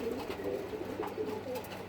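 Racing pigeons coo softly inside a loft, several low, rolling calls overlapping in a steady murmur, close by with no voices.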